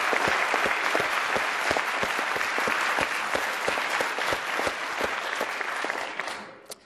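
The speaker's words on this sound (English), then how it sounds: "Let's have a big round of applause for Dave and Mary." Dense, sustained applause from a large crowd at an Ignite talk event, steady and loud for several seconds before tapering off at the end.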